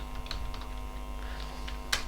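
Computer keyboard typing HTML tags, a quick run of close, light key clicks over a faint steady electrical hum, with one sharper keystroke near the end.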